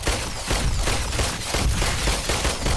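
A gun in the VR game The Brookhaven Experiment fires rapidly in loud, dense bursts of shots with brief pauses between them.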